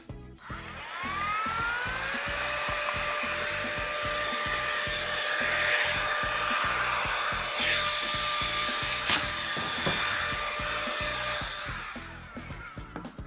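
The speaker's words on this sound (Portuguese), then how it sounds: "Isso é um trabalho para o meu soprador do AliExpress, que não apenas limpa componentes e PCs" An electric air blower bought from AliExpress, used to clean PC components, spins up with a rising whine into a loud, steady high-pitched whir, then winds down at the end.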